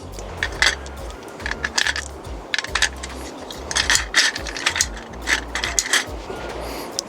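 Rounds loaded into a PP-19 Bizon magazine, a series of sharp metallic clicks and ratcheting snaps in irregular clusters, close and distinct, with no speech.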